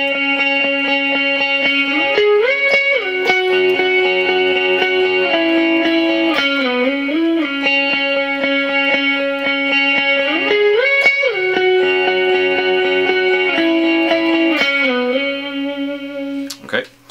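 A distorted electric guitar plays a melody slowly, with sustained, sliding notes in a steady loud line that fades out at the end.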